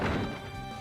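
A Rollout attack strikes in a Pokémon game, a single loud crashing impact at the start that fades into a ringing tail.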